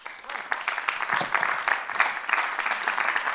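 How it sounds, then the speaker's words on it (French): A studio audience gives sustained applause welcoming a guest onto a French television show, dense steady clapping filling the whole stretch at a fairly close, moderate level. "Je vous demande d'accueillir à mes côtés, de l'applaudir parce qu'elle mérite une tonnerre d'applaudissements, Guylaine Westlink"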